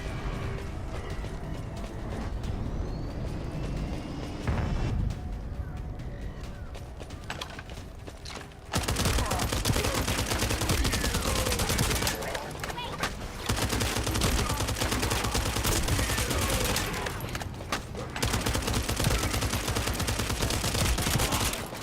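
Gunfire in the looter-shooter game The First Descendant: sustained loud bursts of rapid automatic fire with brief gaps between volleys, mixed with mechanical clanks, close and dominant, with no talk.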